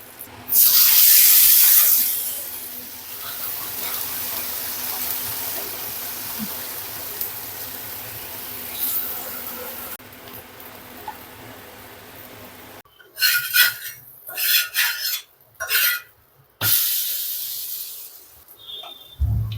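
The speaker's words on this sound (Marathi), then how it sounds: "दोन्ही बाजूने असं मीडियम गॅसवरती व्यवस्थित असं खरपूस भाजून घ्यायचं आहे" Amaranth and potato thalipeeth frying in ghee on a pan over medium gas for a Navratri fasting recipe, a steady broadband sizzle that crackles loudly at first, then settles, with sharper bursts of hissing near the end.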